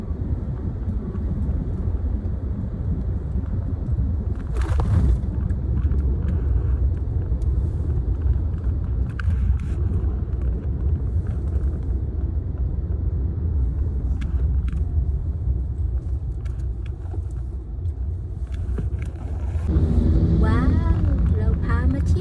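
A car driving along Highway 305 in Nakhon Nayok, Thailand, a constant low engine and road rumble heard from inside the vehicle, with someone speaking over it.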